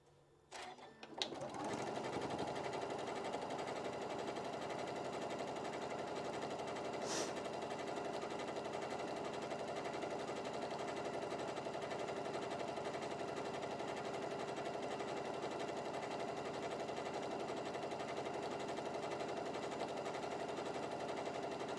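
A sewing machine runs a regular stitch along the side of a one-yard apron, starting after a brief click and then humming in a fast, even, continuous rattle for about twenty seconds, close and steady.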